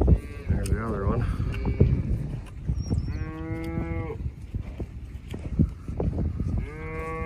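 Bulls in a pasture give several loud, drawn-out moos, near and clear over outdoor background noise.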